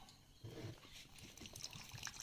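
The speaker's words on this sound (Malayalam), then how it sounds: "ഇതിലേക്ക് നമുക്ക് വെള്ളം ഒഴിക്കാം." Water poured from above onto Morolife On&On health drink powder in a cup, a soft, quiet trickle that swells after the first half-second and keeps a steady liquid splash.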